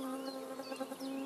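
A solitary bee buzzes in a meadow with a faint, steady drone that rises and falls slightly as it moves, heard alone against quiet surroundings.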